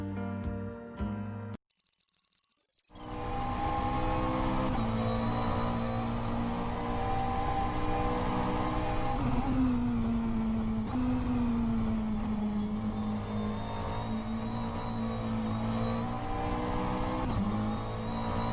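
A McLaren 720 GT3 on a hot lap of Sebring in a sim racing game, its engine droning loud and steady, pitch climbing and dropping through gear changes after a brief cut near the start.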